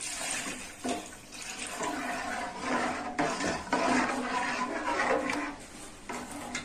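Water from rinsing a mixer jar pours steadily into a cooking pot, a continuous splashing rush with a few brief surges, close by and fairly loud throughout.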